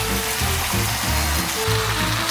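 Continuous crackling sizzle of food frying in a pan with onion and fine chili powder, steady and close, with a low hum underneath and no talking.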